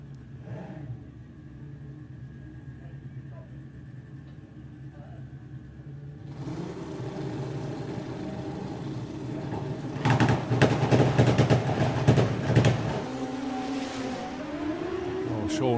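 Drag racing cars launch and accelerate down the strip at a sportsman nationals event, with a steady low engine rumble that swells into a loud, roaring burst around the middle before easing off.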